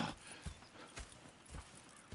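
Horses in Red Dead Redemption 2 clop along at a slow, uneven pace with soft, fairly quiet hoofbeats, and a whinny-like call appears briefly.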